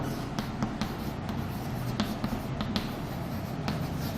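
Chalk or marker writing notes on a classroom board during a physics lecture, giving quiet, quick taps and scratchy strokes in an uneven rhythm, close and faint with no talking.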